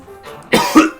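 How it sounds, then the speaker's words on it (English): Two sharp, close coughs in quick succession from one person, the second slightly stronger, following a faint breath. "I'm gonna have to cough really quick"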